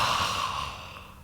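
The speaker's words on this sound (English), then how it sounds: "Now open your mouth and exhale." A single long exhale through an open mouth during a yoga class, a soft breathy rush that tapers off gradually over about a second.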